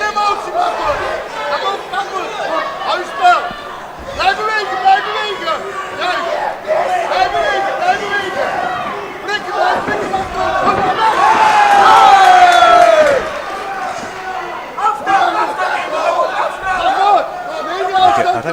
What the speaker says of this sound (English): We've got a loud Ukrainian crowd and a loud Netherlands crowd